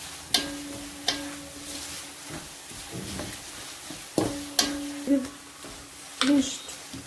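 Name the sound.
stirring masala and urad dal frying in a pan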